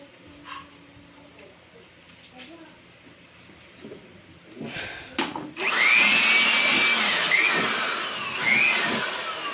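After some quieter clattering, a vacuum cleaner roars on while cleaning a desktop computer and runs loudly and steadily, with whining tonal sweeps, while a voice speaks in the background.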